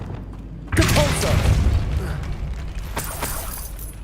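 A Depulso spell is cast in Hogwarts Legacy, an abrupt heavy boom with a mechanical rumble that fades into a clattering, creaking tail, and a second sharp burst follows near the end.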